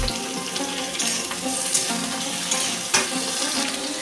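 Gourd stems and cut potatoes fry in a pan with a loud, continuous sizzle and crackle, broken by a few sharper clatters from stirring. No one talks.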